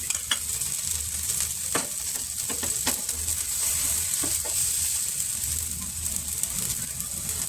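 Bread slices toast in ghee on a hot tawa, a steady soft sizzle and crackle with occasional light scraping and tapping from a spatula, heard close and alone throughout.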